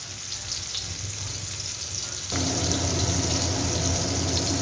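Stuffed bitter gourd frying in oil in a pan, a steady close sizzling hiss that grows suddenly louder and denser halfway through and keeps going evenly to the end.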